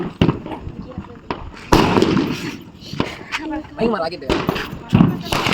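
Diwali firework rockets and firecrackers go off in a family celebration, giving sharp pops and bursts at irregular intervals, some near and loud, mixed with family members talking and calling out.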